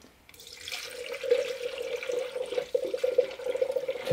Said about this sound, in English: Let's start adding the coolant.